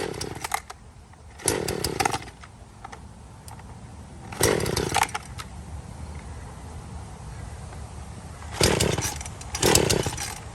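A chainsaw buzzes in three separate loud bursts with quieter stretches between, revving up sharply each time, close by.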